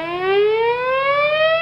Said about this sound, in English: Put the siren on.